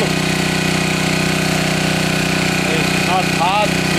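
A wood gas powered engine runs steadily and loudly throughout, a continuous droning hum with low rhythmic pulsing, while brief vocal sounds rise near the end.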